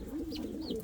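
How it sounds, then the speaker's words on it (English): An Indian fantail cock pigeon coos to call the hen from the nest, a soft, low, repeated cooing heard close and alone. "the cock pigeon is actually going back in the nest already and calling the hen"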